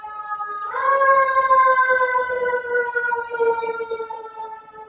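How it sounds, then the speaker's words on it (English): Fire truck sirens going by in a street near a historic building ring out as a loud, steady wailing tone that rises in at the start and holds for several seconds, slowly fading. "Pardon the sirens, there's some fire trucks going by"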